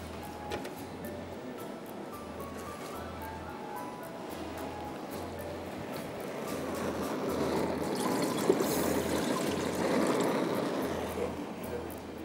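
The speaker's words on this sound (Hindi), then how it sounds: "2 कप पानी हमने ले लिया।" Two cups of water poured into a pan in a kitchen, a soft continuous trickle that swells midway, faint under a low steady rhythmic hum.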